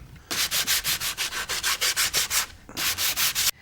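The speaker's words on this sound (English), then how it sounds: "When you sand it down, don't take too much off, or you're going to end up with a very sloppy joint." Rhythmic rubbing of fine sandpaper on wooden joint edges, quick regular back-and-forth strokes in a steady burst, a brief pause, then more strokes, close and fairly loud.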